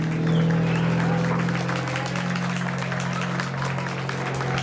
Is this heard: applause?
yes